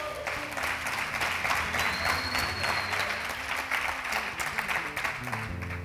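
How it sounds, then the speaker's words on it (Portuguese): A church congregation applauding during a Portuguese sermon, a sustained, fairly loud clatter of many hands clapping in a reverberant hall with faint musical tones beneath. "Aplauda o Senhor."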